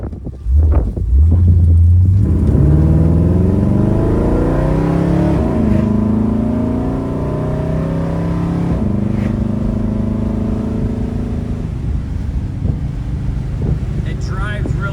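A 1957 Chevrolet Bel Air two-door hardtop cruising on a road, its engine a steady low drone with rising gear-shift tones and constant wind and road noise from inside the cabin.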